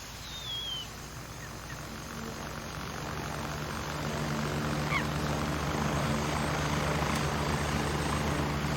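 A helicopter arrives in the video game Gray Zone Warfare, its rotor and engine drone steadily growing louder over several seconds as it draws near, with no one talking.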